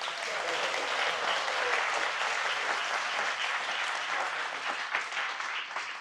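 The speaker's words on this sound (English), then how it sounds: "Give them a big round of applause." Audience at an ISKCON gathering in Laguna Beach breaks into steady, dense applause that holds evenly for several seconds, broad and sustained across the whole room.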